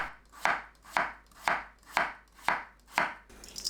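Knife slicing an old yellow cucumber (nogak) into thin 3–4 mm slices on a cutting board, seven crisp, even chops about half a second apart, close and clear with no talk.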